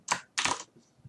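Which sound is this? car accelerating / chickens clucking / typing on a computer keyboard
typing on a computer keyboard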